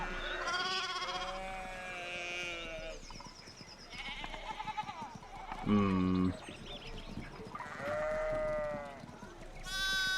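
Several sheep in the video game Pentiment bleat one after another, nearby and fairly loud, with wavering calls spread across ten seconds and one deep, strong bleat in the middle.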